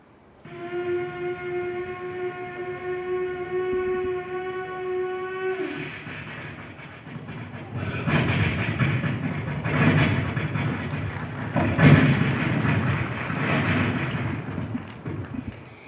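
A performer at a Kerala school festival mimicry contest voices a train passing a level crossing: a long, steady horn-like whistle up close, then a loud, rough rumble of rolling wagons that swells and fades.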